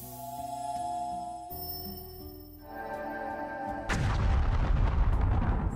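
A Force Impact explosion bursts in Voice of Cards: The Forsaken Maiden, a sudden loud booming blast arriving after a stretch of calm tonal card-game music.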